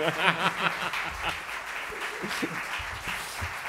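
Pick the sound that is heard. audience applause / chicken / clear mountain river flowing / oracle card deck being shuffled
audience applause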